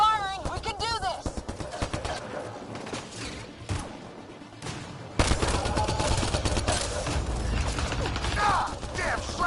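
Sustained gunfire from the video game Mass Effect: Andromeda, rattling bursts and mechanical clatter throughout, growing louder and denser halfway through, with voices shouting amid the shooting.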